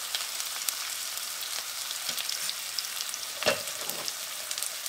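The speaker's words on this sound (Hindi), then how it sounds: "और इसे भून लूंगी" Garlic, ginger and asafoetida fry in oil in a pan, giving a soft, steady sizzle with faint crackles and the occasional stir, quiet and close with no one talking.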